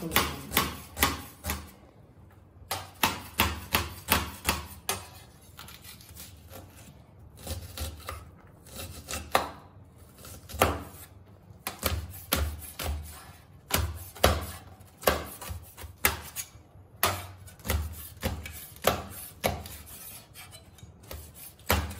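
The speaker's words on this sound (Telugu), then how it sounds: "ఈ ఆనియన్స్ చిన్న చిన్న ముక్కలుగా కట్ చేసుకుంటాం" A knife chopping onions into small pieces on a board, a long run of quick, sharp, evenly paced taps with brief pauses, close and clear with no talking.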